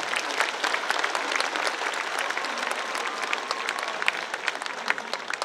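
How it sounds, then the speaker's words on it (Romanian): An audience in a hall claps steadily at a cultural and artistic event celebrating education workers' professional day, a dense, sustained wash of applause throughout with no voices on top. "Haideți să-i aplaudăm pe toți!"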